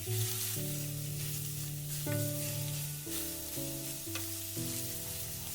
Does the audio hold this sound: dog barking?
no